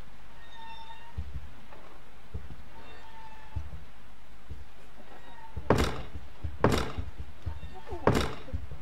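Three loud, separate knocks on a door in the Silent Hill P.T. horror game, set apart by short pauses and following a quiet stretch with faint voices and a low hum.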